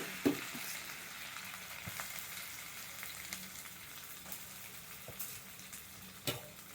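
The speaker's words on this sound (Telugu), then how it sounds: "చక్కగా ఈ తడిపోయే వరకు దోరగా వేయించుకోవాలి" Grated coconut fries in ghee in a kadai, a soft continuous sizzle with occasional light clicks and taps of a stirring spoon, quiet and steady throughout.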